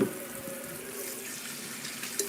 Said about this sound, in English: Let me go and put water in there.